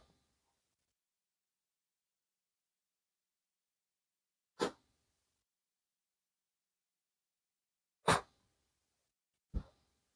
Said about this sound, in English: He's doing that snorting thing and a lot of sneezing.